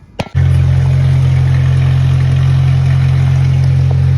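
A Datsun 521 pickup engine idles close by with a steady, even rumble after a couple of brief clicks at the start.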